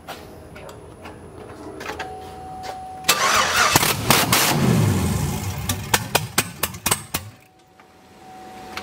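A twin-turbo Chevrolet Silverado truck engine cranks and fires up loudly, then revs hard in a series of sharp bursts before settling back toward a quieter idle.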